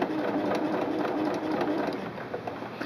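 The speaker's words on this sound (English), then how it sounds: "Place your presser foot down and start sewing." A sewing machine stitches a fabric machine cover, with a steady, fast mechanical whir and rapid needle clatter running continuously at close range, without speech.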